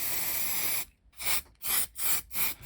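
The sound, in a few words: spraying silicone release spray from a can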